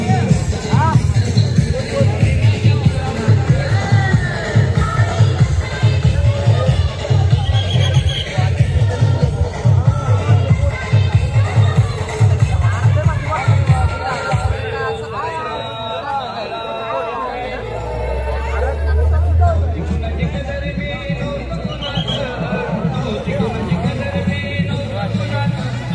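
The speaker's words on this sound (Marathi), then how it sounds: "खूप गर्दी आहे." A large crowd of pilgrims on a Sai palkhi procession on foot from Ghatkopar fills the air with a dense, continuous hubbub of overlapping voices and steady background commotion throughout.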